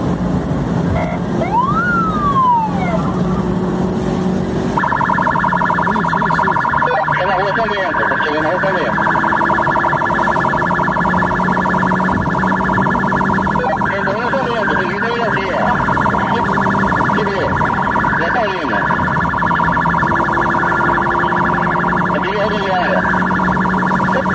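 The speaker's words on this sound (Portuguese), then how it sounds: "Vai sirene, vai sirene." A loud emergency siren wails continuously with rising and falling tones, mixed with a steady horn-like blare and heavy engine rumble of a moving vehicle.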